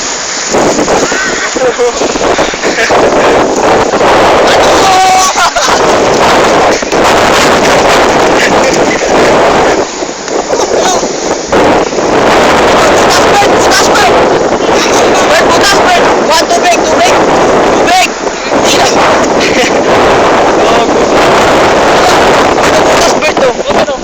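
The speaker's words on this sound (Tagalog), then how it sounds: "sa tabi ng dagat sa Pangpang." Seaside at Pangpang with strong wind buffeting the microphone and boats nearby, a loud continuous roar throughout with people talking over it.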